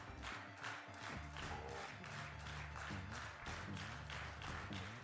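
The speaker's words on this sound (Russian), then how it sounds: "Зал там хлопает, разгоняется." Audience clapping in a hall during a Donkey Kong Country speedrun at a charity marathon event, steady applause building in intensity across the clip beneath loud game music, with no talk.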